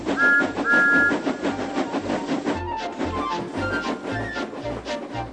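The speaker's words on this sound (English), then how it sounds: "he whistled. Peep, peep" Two short high whistle peeps from Thomas the tank engine, a small steam locomotive, over a busy bed of rolling train noise and clatter, followed by rhythmic low chugging from the moving engine.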